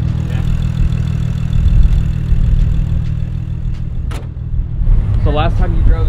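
A built BMW N55 engine fitted with a big single turbo runs in a steady, loud, deep drone close by, and a voice briefly breaks in near the end.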